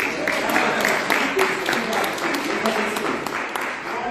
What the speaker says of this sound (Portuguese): dá uma salva de palmas para o Chile